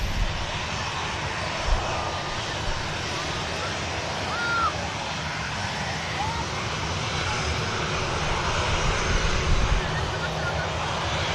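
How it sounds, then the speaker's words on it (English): A Ryanair jet bound for Oslo and a business jet taxi at an airport, a steady broad engine roar filling the scene continuously at moderate distance, with faint talk occasionally underneath. "Ryanair next out. This is the aircraft heading down to, heading up to Oslo, sorry"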